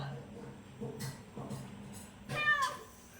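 A cat meows a few times, short nasal cries close by, with a louder, drawn-out meow near the end over faint background noise.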